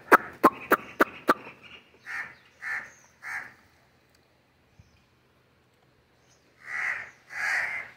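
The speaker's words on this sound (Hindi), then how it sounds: "देखिए गाइस ऐसे कौवे कहाँ कहाँ कर रहे हैं।" Crows caw in a series of harsh calls, a few sharp clicks at the start followed by spaced hoarse caws, then a louder pair of caws near the end, outdoors and fairly close, with no talking.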